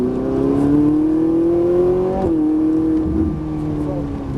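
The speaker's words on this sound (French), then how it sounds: "On braque le gauche et on accélère." A Ferrari 458 Italia engine pulls steadily under load, its pitch rising smoothly, dipping briefly at a gear change, then climbing again, loud and close throughout.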